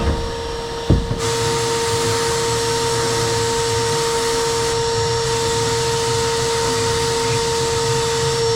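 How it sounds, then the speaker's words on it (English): A vacuum attached to a Harbor Freight sandblaster cabinet runs with a steady, loud mechanical whine and broad airy roar, a brief thump near the start, then unbroken drone to the end. "Let's turn the vacuum on and see if we can fit one of these wheels in there."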